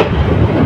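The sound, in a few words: Bolaka Commuter train leaving Fatemanagar railway station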